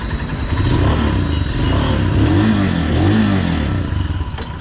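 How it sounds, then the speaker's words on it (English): A Royal Enfield Himalayan fuel-injected BS4 ABS motorcycle engine starts and runs loudly up close with a steady throbbing idle and mechanical clatter, briefly rising in pitch before settling. "So let's start the motorcycle."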